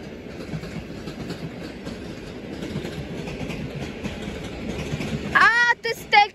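A TLK Uznam passenger train hauled by an EP07 electric locomotive rolls into a station from Świnoujście, a broad rumble and wheel clatter building, then a loud horn-like squeal near the end while people talk nearby.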